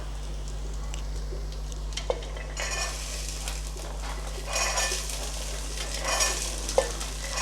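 Green peas drop into sizzling vegetables in a pan for a traditional Bhogi bhaji, with steady frying, bursts of hiss as they land, and a spoon clinking and stirring, close by with no speech.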